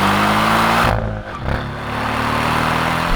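Porsche 718 Cayman Style Edition engine holding a steady drone, then dipping briefly on a downshift as rev matching blips the throttle, before settling back into a continuous loud hum from inside the cabin.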